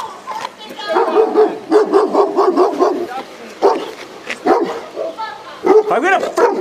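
Dogs bark in repeated bursts during a tense police encounter in Utah where an officer tasers attacking dogs, loud and close, mixed with urgent shouting from several people.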